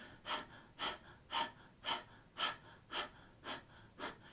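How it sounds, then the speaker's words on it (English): Open-mouthed panting during a yoga kriya breathing exercise: eight quick, even breaths in steady rhythm, close and soft, with no talking. "think of panting like a dog. Stick your tongue out."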